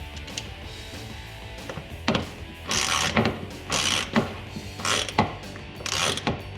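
A 7mm socket wrench tightens the mud flap bolts on a Jeep Wrangler JL, giving a close series of ratcheting clicks in short bursts with brief pauses between turns, and nobody talks.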